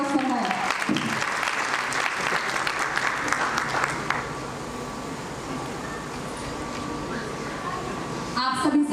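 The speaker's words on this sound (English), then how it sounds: "So I request everyone to give a big round of applause for her." Applause from an audience at a school annual function fills the first half as a dense wash of clapping, then thins and fades under a steady background hum, with a brief burst near the end.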